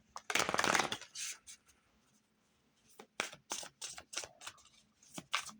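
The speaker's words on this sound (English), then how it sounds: "I'm going to go ahead and shuffle one more time" Tarot cards being shuffled by hand, a loud riffling burst near the start followed by a string of short, crisp card slaps and flicks close up, with no talking.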